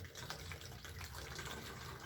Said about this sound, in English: going to pour a base of hydrogen peroxide up to a line that we've made